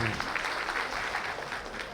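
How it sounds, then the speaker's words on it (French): Applause at an evening launch event in Mauritania, steady and fairly quiet, a room of hands clapping continuously throughout without any voices over it. "je pense que ces applaudissements sont assez faibles quand même pour le directeur de l'IFM"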